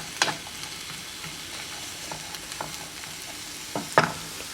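Onions frying in a little olive oil in a pan while being stirred, with a soft steady sizzle broken by occasional louder scrapes and clicks of the spoon against the pan.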